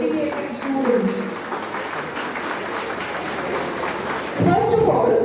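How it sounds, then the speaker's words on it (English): Applause from the audience at a Lions School felicitation and award ceremony: steady crowd clapping at moderate loudness, with a voice speaking over it through a microphone. "I want a big round of applause for all our hardworking students"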